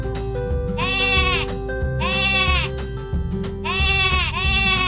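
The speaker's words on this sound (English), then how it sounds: "Can you baa like Sammy?" A sheep or lamb bleats repeatedly in close, loud, wavering calls, several baas in a row with brief gaps, over a steady background tone.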